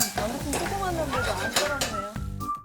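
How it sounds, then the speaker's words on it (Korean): Shrimp and pre-blanched vegetables are stir-fried together in a pan, giving a continuous sizzle with scraping stirs and utensil clinks against the pan, under a brief spoken comment and music. "여기에 미리 데쳐두었던 야채들을 넣고 엄청 푸짐하네요. 함께 볶습니다."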